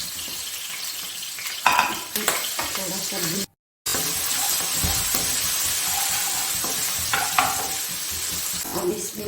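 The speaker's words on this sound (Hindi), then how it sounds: "ऑयल डाल दिया 2 टेबल स्पून। इसमें जाएगा अदरक और लहसुन" Ginger and garlic fry in two tablespoons of oil, with a steady close sizzle and stirring through the clip, a brief silent gap near the middle and a few clinks, while someone speaks briefly.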